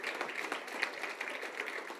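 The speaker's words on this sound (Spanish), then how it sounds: "Le da un aplauso al Señor." Congregation applauding at a church service, a steady wash of many hands clapping at moderate distance with no voices rising above it.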